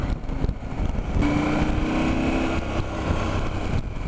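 A KTM 790 Adventure motorcycle engine drones steadily as it is ridden, a continuous loud rumble with wind buffeting the microphone and a brief rising engine note midway, no talk over it.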